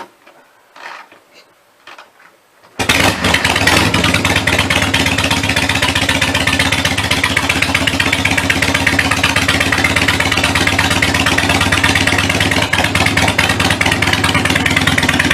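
A kickstart-only dirt bike engine fires up after a few faint clicks, then runs loud and close at a steady, rapid idle with a constant buzzy clatter until the end.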